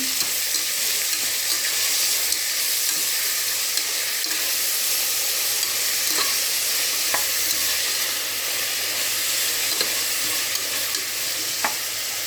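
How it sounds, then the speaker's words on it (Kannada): Tomatoes and curry leaves frying with onions while being stirred, a loud, dense, continuous sizzle with light scraping and occasional ticks from the spoon, close and without speech. "ಟೊಮೆಟೊ ಸ್ವಲ್ಪ ಕರಿಬೇವು ಸೊಪ್ಪು ಇದು ಫ್ರೈ ಮಾಡುವ ಈಗ ಮಿಕ್ಸ್ ಮಾಡ್ತಾಯಿದ್ದೀನಿ"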